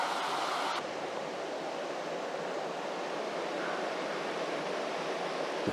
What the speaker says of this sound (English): Looking at the water flowing over this weir,